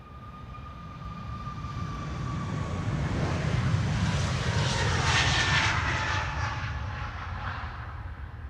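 An airliner accelerates down the runway and lifts off at Amsterdam Schiphol Airport, its jet engines a steady broad roar that swells to a peak midway and then eases, heard from a distance with no talk.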